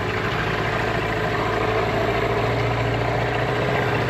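A tiller-steered boat engine idles in a steady, dense low drone with an even mechanical throb, loud and constant throughout, with no voices.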